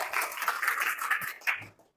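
A class applauds during a teaching performance assessment, with a short burst of dense clapping from a small group that fades out after about two seconds, nearby and fairly loud.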